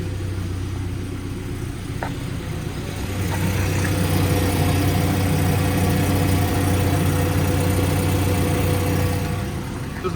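A Mercedes-Benz W202 C180 with a leaking exhaust runs close by, a steady low rumbling drone that swells louder partway through as the engine is revved a little.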